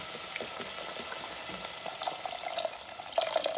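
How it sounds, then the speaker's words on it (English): Beef-flavored pho broth pours into a soup pot, a faint continuous liquid trickle and splash that grows louder and busier toward the end, with no talk. "I'm just going to pour it right in"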